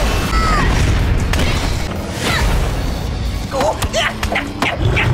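Loud, dense booming thuds and crashes from dinosaurs running in a Boboiboy Galaxy cartoon, a continuous heavy rumble with sharper impacts and whooshes layered on top throughout.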